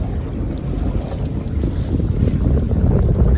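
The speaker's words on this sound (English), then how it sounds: "We got a pretty good wind blowing here across the trailer" Strong wind gusts buffet the microphone beside a boat trailer at a lake shore, a steady low roaring rush that builds louder toward the end with no talking.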